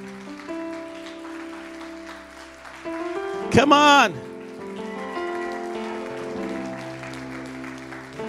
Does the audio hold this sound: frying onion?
no